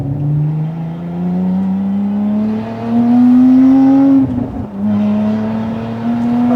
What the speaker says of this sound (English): especially when you're blipping on the downshift like that